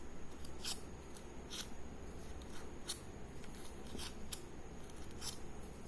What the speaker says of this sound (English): Cut the flower like this and do like this with the scissors.